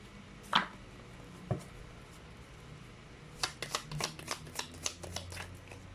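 Tarot cards are handled with a couple of isolated slaps, then a quick rapid riffle of close, crisp card flicks in a tight rhythmic burst, with no talking.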